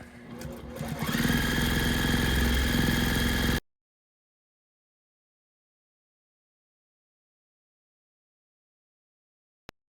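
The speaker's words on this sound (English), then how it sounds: "I'm just holding the binding and the quilt, and I'm just gonna stitch" A sewing machine stitches binding onto a quilt edge, starting slowly then running at a steady, close, whirring mechanical rhythm for a few seconds before stopping abruptly into silence.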